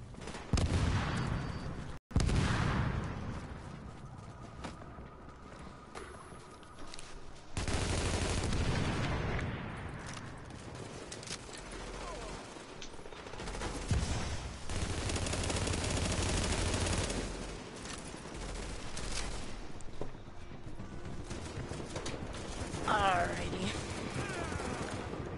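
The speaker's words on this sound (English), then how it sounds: "Dude, there's gunshots like crazy." Heavy gunfire in Tom Clancy's The Division as a player fights many enemies during a mission: dense, sustained bursts of automatic fire and shots, loud and continuous, with a brief gap near the start.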